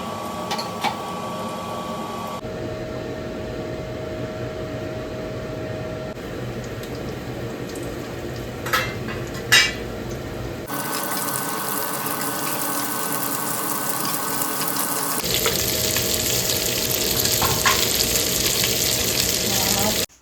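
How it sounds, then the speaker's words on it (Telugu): Spices fry in a little oil in a pan for a chicken dish, a continuous hiss and sizzle with occasional clinks and stirring scrapes, the texture shifting between sections as ingredients are added. "కొంచెం ఆయిల్లో మాత్రమే ఫ్రై చేస్తాము ఆ ఆయిల్లోకి ఇప్పుడు తిరుగుబాత్ వేసుకోవడం"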